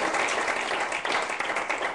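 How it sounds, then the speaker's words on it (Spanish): A church congregation applauds in praise during an evening service, a dense, steady wash of many hands clapping at once without a break. "Denle un aplauso a Jesús en esta noche"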